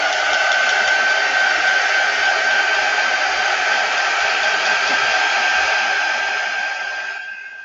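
Hair dryer blowing on a craft project, a steady loud whooshing hiss with a constant motor whine, close by, running alone before switching off near the end.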